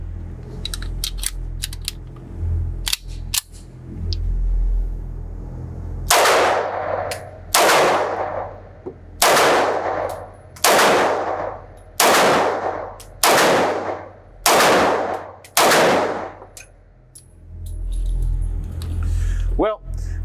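Eight loud, sharp pistol shots from a Romanian Tokarev TT-33 ring out at a steady pace of roughly one per second, following earlier light metallic clicks and handling noises at a range.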